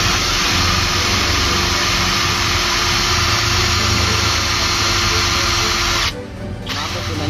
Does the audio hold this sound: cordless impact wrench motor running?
yes